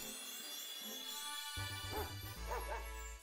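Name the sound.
Pokemon cry like a barking dog, from video game Pokemon Scarlet & Violet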